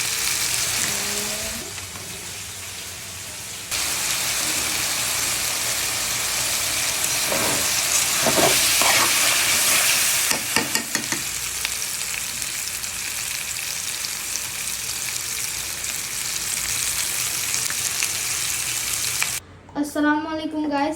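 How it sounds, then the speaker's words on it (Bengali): Chicken frying in a pan gives a loud, continuous sizzle and hiss throughout, with occasional stirring scrapes and a brief pause near the end. "চিকেন ফ্রাই করছি।"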